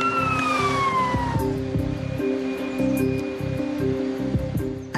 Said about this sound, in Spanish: Una ambulancia y personal sanitario se desplazan al número 40 de la calle Imstrasse, la calle de Josef Fritzl.